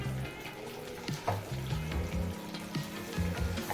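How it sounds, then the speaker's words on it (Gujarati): Mashed boiled potatoes going into a hot tempered pan for farali khichdi, soft continuous sizzle with irregular squelchy, watery bubbling and stirring noises, close but quiet. "હવે આપણે આમાં બટેટા નાખી દઈશું."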